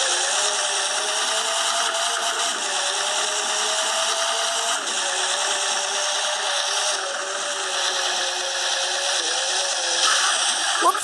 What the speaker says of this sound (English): So we're just gonna over rev this thing because we're doing 55.